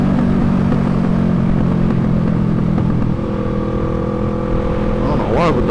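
A motorcycle engine idles and revs close by with a droning exhaust note, then a rising rev near the end with crackling pops, heard under ongoing talk.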